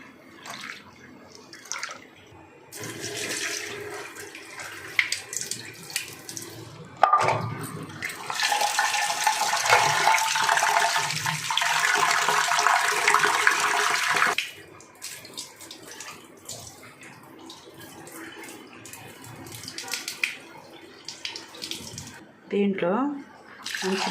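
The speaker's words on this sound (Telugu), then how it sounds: "ముందు కందిపప్పు వేసుకుందాం. ఒకటికి 2 సార్లు కడుక్కోవాలి." Toor dal (pigeon pea lentils) rinsed under running tap water, with a long steady rush of flowing water in the middle, swishing and dripping around it, and voices talking over parts of it.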